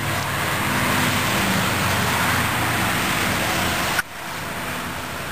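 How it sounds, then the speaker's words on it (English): Road traffic passes near the entrance of a woodworking shop as a steady, broad roar of vehicles. The noise drops slightly after a brief click near the end. "See the traffic."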